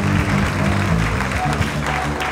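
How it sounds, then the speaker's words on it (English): A church congregation claps hands together in a steady, dense burst of applause, loud and close, with a faint murmur of voices beneath. "Can we clap our hands?"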